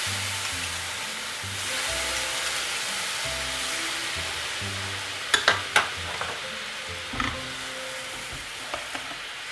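Sugar and water melting in a pan for tarte tatin caramel, with a soft steady bubbling sizzle throughout and a few sharp clinks of a utensil near the middle, no voices.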